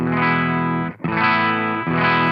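A loud chord from a 1981 Ibanez AS100 hollow-body electric guitar through an overdrive pedal rings out with gritty overdrive, cuts briefly, then strikes again and sustains thick and saturated.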